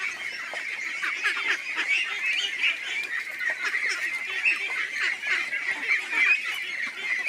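A dense flock of ducks quacking and honking continuously on a duck farm at Chalan Beel, Natore, many birds calling over one another at moderate distance, no talking.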